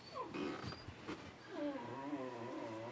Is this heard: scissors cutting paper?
no